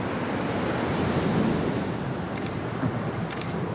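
Ocean waves break steadily along the shore in Fiji, a loud, continuous broadband roar with some wind noise. A few faint camera shutter clicks sound partway through.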